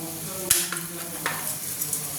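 Fried paneer being stirred into a moong dal halwa in a pan, a soft steady sizzle under a few dull scrapes and knocks of the spoon, close by and without speech.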